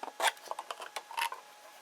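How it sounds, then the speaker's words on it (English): A scissors point prying open the edge of a package holding a 1 kg gold bar, a quick run of small scraping, clicking and crinkling sounds, close and fairly quiet, with no talk. "I've got this pair of scissors. I can just put the point under there and start to get it open."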